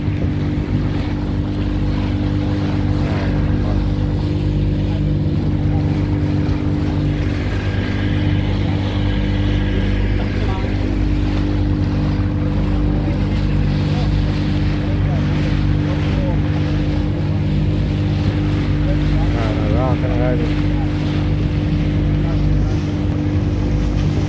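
Motorboat engine heading out to sea on a Ramadan fishing trip, a steady loud drone throughout with wind buffeting the microphone and water noise, and a voice faintly over it.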